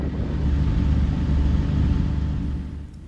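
2020 Toyota Camry TRD accelerating hard on a racetrack, a loud, close, deep engine rumble that builds steadily and then fades toward the end, with no voices.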